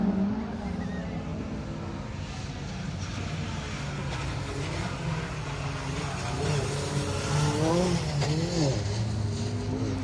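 Two orange compact rally cars pass back to back on a stage at the Neil Howard Stages Protyre circuit rally, their engines revving and shifting under a commentator's voice, with a climbing rasp as each car goes by.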